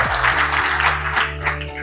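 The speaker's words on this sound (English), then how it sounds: "A round of applause for us." Audience applause at a policy dialogue event in Kaduna, a continuous patter of clapping over a low, steady electrical hum and tonal background drone.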